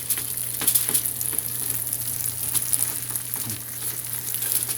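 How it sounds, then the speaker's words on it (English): Bread spread with garlic and butter frying in a pan for a roast beef sandwich, giving a continuous close sizzle with faint crackles and no talking. "just to get the garlic and the butter cooking on the bread"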